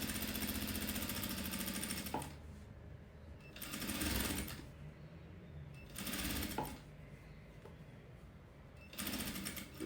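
A sewing machine stitches bias binding onto woven fabric, running in loud, rapid mechanical bursts separated by short quiet pauses, close and with no speech.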